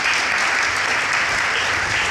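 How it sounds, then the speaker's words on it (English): An audience at a Democracy 250 summit applauds for Miguel Cardona, a steady, full wash of clapping throughout the short stretch. "Round of applause for Miguel Cardona."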